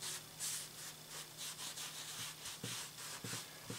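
Amber dye being rubbed by hand onto wood veneer, a soft repeated scrubbing swish in steady strokes, close and fairly quiet, with a few light knocks near the end.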